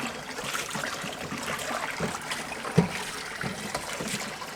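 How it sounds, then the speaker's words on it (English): Water rinses a wok at a kitchen sink, a soft continuous trickle and splash with one brief louder clank near the middle and no voices. "Rinse that off, very nice."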